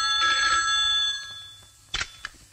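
A telephone bell rings close by in a loud, bright burst, then falls quiet before two short, fainter rings follow.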